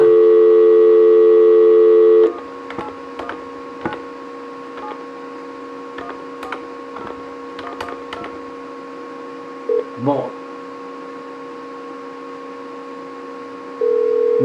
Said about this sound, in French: Bon, ça sonne.